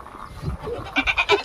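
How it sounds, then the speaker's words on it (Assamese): Goats on a goat farm give a few short, close bleats in quick succession near the end, over quiet background noise. "এইখিনি ছাগলী ফাৰ্ম"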